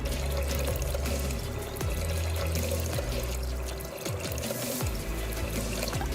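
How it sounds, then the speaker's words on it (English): Water is poured from a steady stream onto washed rice in the inner pot of a Toshiba IH low-sugar digital rice cooker, a continuous close splashing trickle with a bubbling pour note, alone and without talk. "this rice has been washed, and we just pour the water as usual"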